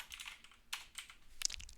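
Quiet, close typing on a computer keyboard during programming work, irregular bursts of light key clicks with short pauses between them, no talking.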